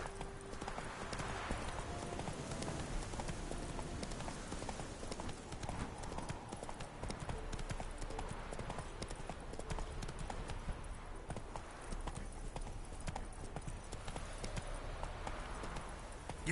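Horse hooves clip-clopping at a steady gallop in The Witcher 3, a continuous rhythmic beat through the whole stretch with game ambience and a voice speaking over it now and then.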